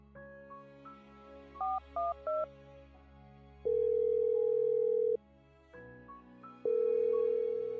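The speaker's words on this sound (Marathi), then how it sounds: "तिने तिचा फोन हातात घेतला आणि एक फोन लावला." Short electronic beeps in quick bursts, then long steady tones separated by pauses, like a phone dialing and ringing out; no voices.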